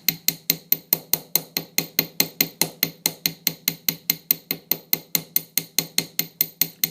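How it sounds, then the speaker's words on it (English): Rapid, evenly spaced metal-on-metal hammer blows ring out as wire is flattened on an anvil, dozens of sharp strikes in a steady rhythm, close and clear without any voices. "You want to hit in the center of your hammer and center of your anvil"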